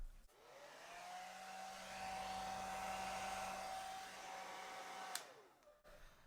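A hair dryer blows acrylic paint across a canvas in a Dutch pour, a steady whining hum that switches on, runs evenly for about five seconds, then winds down and stops, fairly close with no talking.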